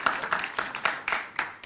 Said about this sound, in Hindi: दोनों वक्ताओं को तालियों के साथ स्वागत कीजिए